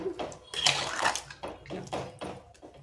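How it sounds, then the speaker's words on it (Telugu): Tamarind paste is poured into a pot of dried-fish, brinjal and tomato pulusu, giving a wet, sloshing pour in a few uneven bursts, close and moderately loud. "చింతపండు పేస్ట్ పోసినాక"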